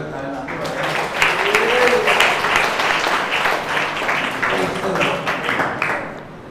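Applause from the congregation at a prayer and meditation gathering: steady, dense clapping throughout, fairly loud and close, tapering slightly toward the end.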